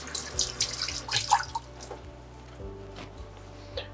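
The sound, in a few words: water from tap rinsing a peeled carrot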